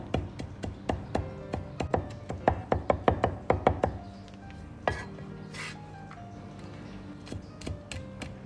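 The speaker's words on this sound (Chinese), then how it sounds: "然后再剁成姜末" Ginger minced with a knife on a cutting board, a quick run of crisp, evenly spaced chops for about four seconds, then sparser taps and a few scattered knocks.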